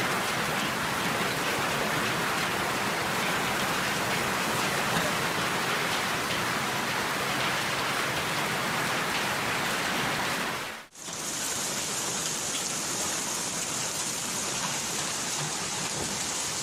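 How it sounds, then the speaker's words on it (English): A hailstorm pounds a Brisbane CBD train station with a dense, loud, unbroken roar of ice and rain striking surfaces, cutting briefly to a shift in tone partway through before continuing just as heavily. "Brisbane hail wreaks havoc on a train station in the CBD."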